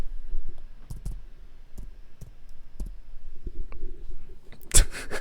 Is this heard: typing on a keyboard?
yes